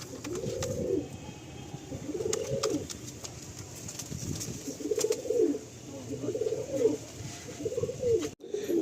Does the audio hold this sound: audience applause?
no